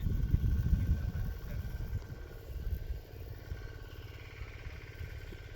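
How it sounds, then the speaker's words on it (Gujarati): A diesel engine runs in the background on a village farm, a low, steady mechanical rumble with a faint rhythmic chug, louder at first and then easing slightly, with no talking. "એ પાછળ કે ડીઝલ એન્જિન ચાલુ છે એટલે એનો અવાજ આવે છે"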